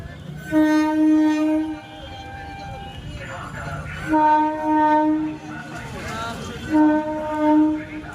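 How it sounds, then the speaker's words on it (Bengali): A train pulls in sounding three long, loud horn blasts over the rumble of the railway, with voices of a crowd of onlookers and children talking beneath. "এই যে ট্রেন আসছে বাচ্চারা সব ট্রেন দেখবে বলে দাঁড়িয়ে"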